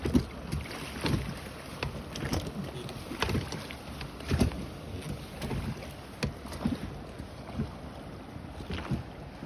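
Rhythmic paddle strokes splash and thump against water at a steady pace, with wind buffeting the microphone throughout.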